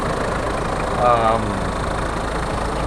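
Toyota Land Cruiser LJ78 turbo diesel engine idling smoothly just after starting, a steady low rumble under continuous talk that carries through the whole stretch.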